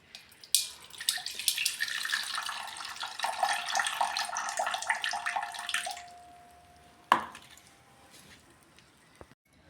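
Water poured off washed sago in a pot, a bright splashing pour lasting about five seconds that thins into a trickle, followed by one sharp knock and a few faint drips.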